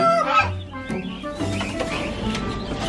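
Chickens clucking at a Belgian pet market on a freezing day, several birds nearby giving short, irregular clucks and squawks over faint background bustle.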